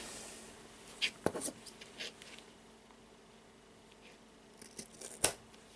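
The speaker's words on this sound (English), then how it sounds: "Now I will grab the scissors" Scissors snip through the yarn of a handmade friendship bracelet, a few crisp cuts sounding close and quiet, with a sharp snip early on and another near the end over soft background hiss.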